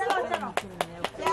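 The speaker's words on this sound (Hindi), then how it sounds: "ताली बजा दो ना ऑडियंस को" A small crowd clapping a few times at a steady beat, the sparse claps sitting under someone talking loudly nearby.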